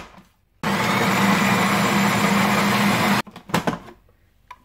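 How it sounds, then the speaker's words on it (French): An electric blender whirs loudly and steadily for a few seconds, blending tuna with browned onions, parsley, pepper and salt for a terrine, then stops, leaving a few clattering knocks. "Et je vais mixer tout ça au mixeur."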